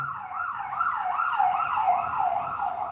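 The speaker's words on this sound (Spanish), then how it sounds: "Tienen que pasar la ambulancia" An ambulance siren sounds steadily outside throughout, a loud wailing tone sweeping up and down in a regular rhythm, with no talking over it.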